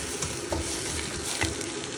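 Chopped onions dropped into hot oil in a pan crackle and sizzle loudly and continuously at close range, with a few sharper pops breaking through the dense hiss.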